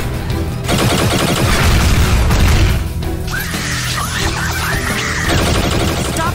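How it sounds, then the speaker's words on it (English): Animated cartoon gunfire crackles in dense, continuous bursts, loud and mixed with crashes and impacts, with no speech. "Stop shooting."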